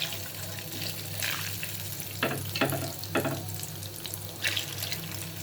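French fries sizzle in hot oil, a continuous close frying hiss with a few louder bubbling bursts and faint clatter, with no talking.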